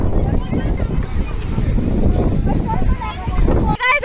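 Sea waves wash in steadily at Old Digha beach, with heavy rumbling surf and wind buffeting the microphone while people talk nearby.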